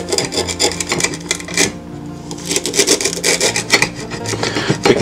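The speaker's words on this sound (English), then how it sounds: "You want to cut it to about 1-inch sections, like about 1 inch, to put into the food processor." Knife cutting cattail stalks into one-inch sections, a steady series of close, fibrous rasping and chopping strokes with brief pauses, no talking.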